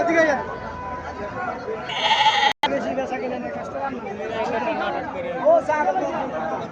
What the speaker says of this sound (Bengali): এখানে আরো দেশি কিছু খাসি ছাগল দেখা যাইতেছে